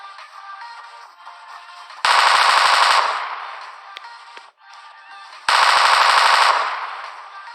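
Automatic gunfire in the video game PUBG, fired during the elimination of an enemy squad: two loud, rapid machine-gun bursts of about a second each, separated by quieter game ambience.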